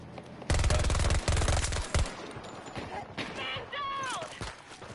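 Rapid automatic gunfire in a video game shooter rattles out in two close, loud bursts, then a scattered shot or two, with a player talking afterward.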